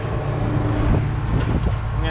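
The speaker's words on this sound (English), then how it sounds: "We're cruising down the road in the combine." A combine harvester drives down a road, heard from inside as a loud steady low engine drone with rattles, brief voices over it.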